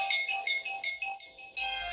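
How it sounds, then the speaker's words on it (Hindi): An Android phone plays its ringtone after being triggered remotely to locate it, a bright repeating electronic melody of short tonal notes, steady and fairly loud, with no talk over it. "तो जो आपका फ़ोन का रिंग है वो बजना शुरू हो जाएगा"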